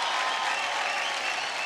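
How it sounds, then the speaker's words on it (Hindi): A studio audience on a televised singing competition claps in a dense, steady burst of applause, close and fairly loud, without speech. "अलका जी के लिए तालियां।"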